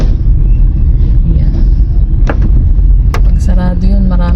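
Steady low rumble of congested road traffic in Sta Maria, Bulacan, heard from close range, with a brief thump or knock and a short tonal squeak or horn-like sound near the end.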